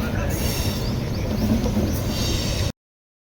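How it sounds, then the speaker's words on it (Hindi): A loud special passenger train hauled by a locomotive rumbles past close by in a continuous roar of wheels and clatter, with a high squeal, then the sound cuts off abruptly. "रेल मंत्री स्पेशल गाड़ी W87 के साथ आ रही है 39565।"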